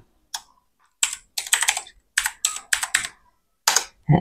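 Word typed on a computer keyboard, a few isolated key presses followed by quick bursts of clacking keystrokes with short pauses between them, close and crisp with no talk.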